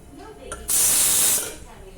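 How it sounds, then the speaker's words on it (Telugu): Hot oil in a pan for mutton tilli fry gives a sudden loud sizzling hiss that lasts under a second, then dies back to a low background. "సో ఇక్కడ ఆయిల్ అయితే హీట్ అవ్వాలి."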